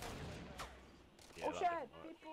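Faint bursts of gunfire in the video game Fortnite during a squads match, with a sharp shot early on and players talking over it.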